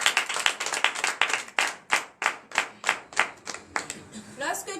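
Rhythmic group clapping at a morning prayer service in Comè, Benin, with about a dozen strong, evenly spaced claps that slow toward the end, followed by a voice and shouts.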